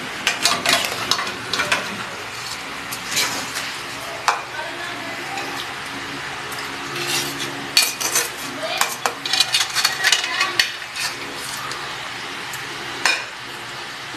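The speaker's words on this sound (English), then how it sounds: "Now combine the cooked potatoes in the egg." A spoon clinks and scrapes against a bowl as cooked potatoes are folded into beaten egg for a Spanish cheese omelette, with irregular knocks over a quiet background.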